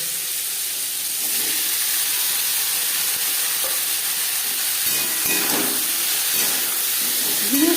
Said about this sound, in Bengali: পনেরো কুড়ি সেকেন্ড জিরে ভেজে নেওয়ার পর দিয়ে দেবো কাঁকরোল